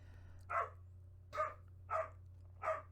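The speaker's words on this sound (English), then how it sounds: "I don't know if this is going to pick him up barking." A dog barks four times in a slow, evenly spaced series, each bark short and moderately loud over a steady low engine hum while riding through traffic.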